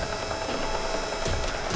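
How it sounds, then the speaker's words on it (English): A mechanical gate grinds and ratchets open in the zombie shooter Back 4 Blood, clanking gear-like clicks with a couple of sharper metallic hits near the end. "if I open the gate, it's gonna call in the horde"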